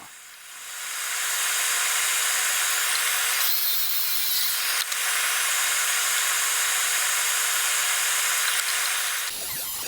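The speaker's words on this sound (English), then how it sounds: "grab all the maple and all the walnut and cut them to length on the miter saw" A miter saw cuts maple and walnut boards to length with a loud, hissing high-pitched whine. The tone changes briefly partway through as the blade passes through the wood, then the motor winds down near the end.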